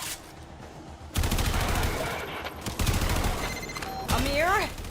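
Dense automatic gunfire from the video game Warframe rattles in sustained bursts, jumping louder after a quieter opening, with electronic effects and talking mixed in.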